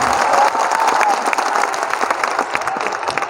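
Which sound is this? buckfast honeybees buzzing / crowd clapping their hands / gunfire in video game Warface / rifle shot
crowd clapping their hands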